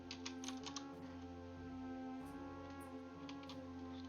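Computer keyboard typing in brief irregular bursts of clicks over a steady hum and tonal background, moderately faint.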